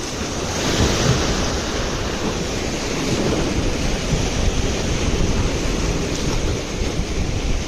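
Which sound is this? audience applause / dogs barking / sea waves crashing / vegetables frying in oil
sea waves crashing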